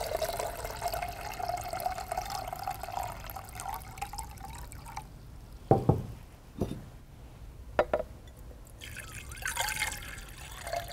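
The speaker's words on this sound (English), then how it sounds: "you're going to fill both beakers with the same amount of water" Water runs and trickles steadily into beakers for several seconds, then a few sharp knocks and drips follow before a renewed splashing pour near the end.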